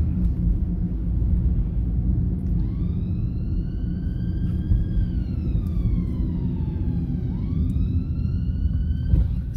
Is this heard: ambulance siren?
yes